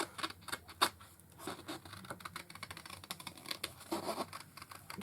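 Scissors cutting freehand through card while making a craft desk tidy, giving a close series of short crisp snips and scratchy patter with brief pauses, with no talk.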